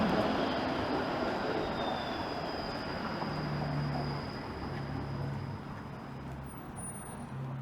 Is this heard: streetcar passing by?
yes